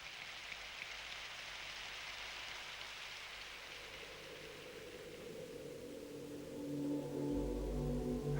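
Steady rain hisses down for several seconds as a broad, even wash of sound, and a low engine-like rumble swells in toward the end. No one speaks.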